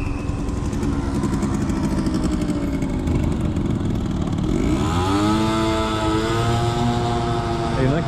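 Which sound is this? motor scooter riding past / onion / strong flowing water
motor scooter riding past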